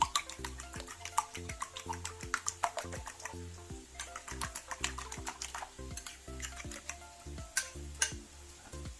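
Eggs being whisked with salt, a quick run of light rhythmic clicks and taps of a utensil against a bowl with a faint sizzle beneath, and no talking.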